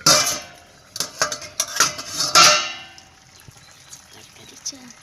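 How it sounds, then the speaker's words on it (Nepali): Vegetables tipped into a cooking pot make a quick cluster of clattering, rattling hits against the metal, followed by quieter scattered clinks and faint sizzling. "अब यसमा चाहिँ तरकारी हाल्छु"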